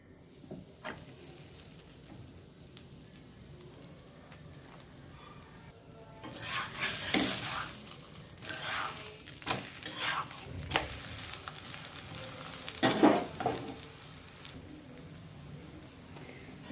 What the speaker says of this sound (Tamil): நம்ம தோசை தவாவில் போட்டு எடுக்கலாம்